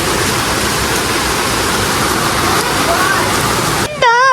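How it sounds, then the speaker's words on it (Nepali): Heavy rain pours down in a continuous dense hiss that stays loud and unbroken, then cuts off abruptly just before the end, when a voice begins speaking. "भर्खरै कति ठुलो पानी पर्यो"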